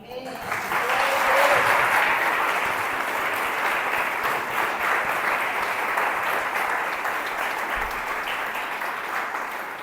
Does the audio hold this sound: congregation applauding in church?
yes